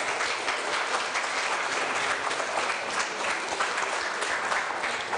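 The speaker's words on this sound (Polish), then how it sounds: "Również bardzo proszę o oklaski." After a lecture on Russia, a hall audience bursts into dense, sustained applause, loud and close, with many hands clapping together in a continuous roar and no pause.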